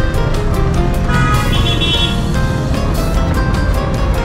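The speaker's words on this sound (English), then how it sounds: "Traffic here is crazy" Busy street traffic in Tirana, Albania, with a steady loud wash of car engines close by, dense and continuous, and brief horn-like tones rising partway through.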